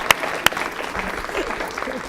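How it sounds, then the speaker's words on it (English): Applause for Dr. Bain at an elementary school board presentation, a steady spread of clapping with a couple of sharper claps near the start, moderately close and continuing throughout. "let's give him a big round of applause"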